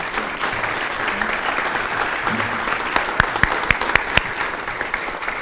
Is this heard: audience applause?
yes